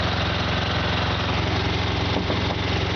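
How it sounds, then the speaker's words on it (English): A 2006 Freightliner Columbia truck's diesel engine idles close by, a loud, steady, smooth rumble with an even pulsing throb and no change in pace. "smooth running engine."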